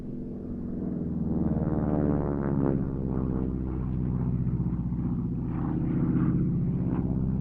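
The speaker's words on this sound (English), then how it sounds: "the propeller not geared down direct to the crank, so it spins so fast, like I say, like a bee's wings, to keep the big aeroplane in the air" A Harvard advanced trainer, a roughly 600-horsepower propeller plane with its prop driven directly off the crank, passes overhead at a Duxford airshow: a loud, steady, buzzing engine drone that swells and eases slightly, with no voices.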